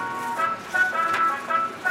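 Small mobile supermarket truck in a remote Japanese area plays a bright chiming jingle tune from its loudspeaker, close and steady with no talk.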